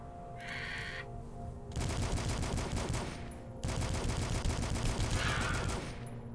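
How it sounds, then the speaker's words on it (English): Sustained rapid assault rifle fire in the retro shooter DUSK, two long loud continuous bursts with a brief gap between, over constant game background noise. "let's try the assault rifle on this dude"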